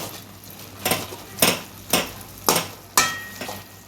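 Cooked greens (shaak) being mashed into a paste by hand in a pot, with five or six evenly spaced, fairly loud squelching thumps about half a second apart against a quiet background.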